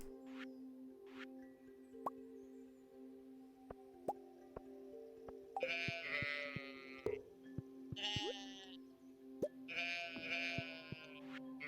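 Several sheep bleat in bursts over a steady game-like hum, with scattered soft plops and clicks in between.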